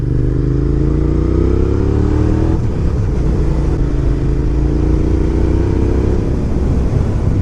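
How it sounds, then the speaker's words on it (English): A second-generation Suzuki SV650S with its V-twin engine is being ridden, giving a loud, constant engine drone with rising and falling revs and heavy wind rumble throughout, with no speech. "you can't beat the sound of a V-twin."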